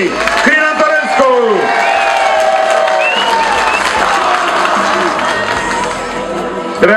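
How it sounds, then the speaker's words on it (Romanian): Applause and cheering from a crowd at a Liberal party election rally in Oltenița for Crin Antonescu, a broad continuous roar of clapping with whoops and shouts layered over it, close and loud. "Să-l aplaudăm pe viitorul președinte al României, Crin Antonescu!"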